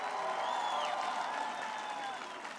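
Audience applause after a speech, a steady wash of clapping from a crowd that carries on evenly and softens slightly toward the end, heard from some distance.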